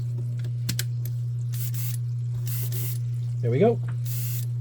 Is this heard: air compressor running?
yes